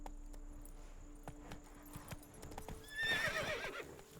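Roach, the horse in The Witcher 3, clops along at a walking pace with soft, steady hoofbeats, then gives a loud, close whinny near the end, with no talking over it.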